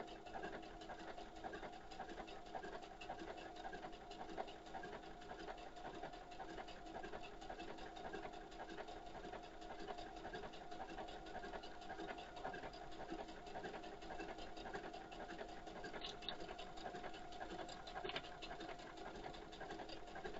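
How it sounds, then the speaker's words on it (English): A sewing machine sews with a twin needle in one continuous, even run of fast rhythmic stitching, steady and moderately faint, with no talk. "So right now, let us start sewing."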